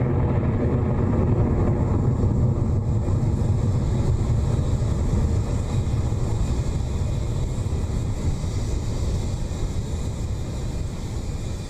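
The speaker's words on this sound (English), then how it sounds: "The beginning of the swarm has begun its ride to space with that clean Electron liftoff from LC-1" Rocket Lab Electron rocket lifting off from Launch Complex 1, a steady, loud broadband roar with deep low rumble that holds unbroken throughout, with no voices.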